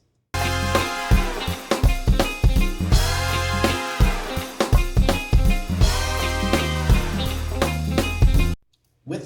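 Snare drum with its layer bypassed, cracking repeatedly in a loud full drum and music mix with a steady groove and no talking, ending abruptly.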